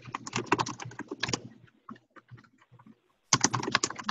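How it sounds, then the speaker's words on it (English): Someone types on a computer keyboard nearby in quick bursts of clattering keystrokes, then a few scattered, softer taps during a pause before another fast run of typing. "I can hear someone typing"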